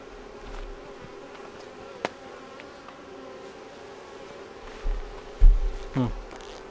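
Honey bees swarming outside their hive on a sunny morning, a continuous close buzzing drone with a few louder bumps and handling noises near the end.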